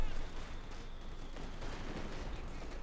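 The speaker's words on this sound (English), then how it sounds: "The heavy mortar fire on the MG-34." Heavy mortar barrage in Company of Heroes 2 striking a German MG-34 position, rumbling explosions and crackling fire as a low continuous din, somewhat distant and fairly faint.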